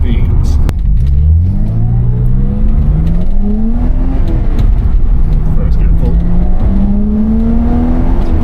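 A BMW E30 325i Sport engine pulls in third gear at about 40 mph, its rising tone climbing steadily through two long pulls, loud and close inside the car, with a voice speaking over it.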